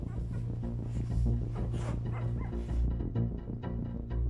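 A mother dog and her litter of newborn puppies in a home, with steady yips, whimpers and soft barks layered over a busy background, the puppies' high cries rising and falling throughout.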